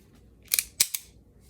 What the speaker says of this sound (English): now this gun is safe to dry fire